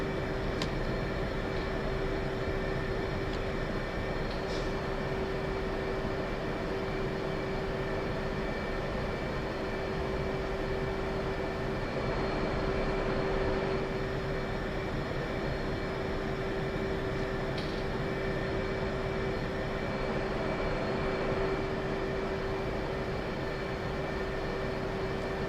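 An F/A-18 Hornet jet taxiing in a flight game, a steady droning engine whine with a constant tonal hum that holds unchanged and fairly loud throughout, with no voices.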